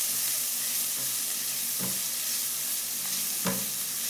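Chopped onion and garlic sauté in a pan with a steady, close sizzle, and a spatula stirs through it in a few soft strokes, with no speech.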